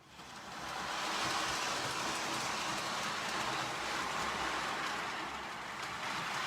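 Lionel model train rolling steadily along its track near an operating accessory, a continuous broadband rumbling hiss that swells in the first second and holds even, with no talk.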